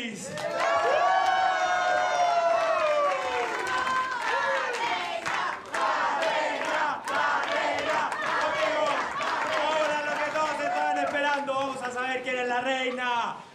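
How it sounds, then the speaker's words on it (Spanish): A television studio audience roars with loud, sustained cheering and shouting, a dense crowd sound that continues for the whole stretch, mixed with voices. "quiero que le den un fuerte, pero muy fuerte aplauso a la hermana Doris"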